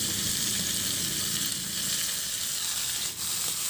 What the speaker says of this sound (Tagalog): Ihalo lang din hanggang sa magisa lang mabuti yung isda natin sa ating aromatic spices.